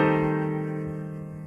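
A minor sixth chord in first inversion sounds as one sustained, evenly voiced chord that slowly fades while it holds.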